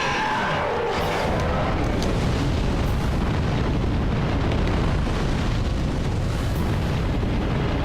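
Roaring fire blasts sweep across a path at Dragon Peak in Dark Souls 3, a loud, continuous broadband rush with rumbling low end and a few sharper flares, filling the whole stretch without speech.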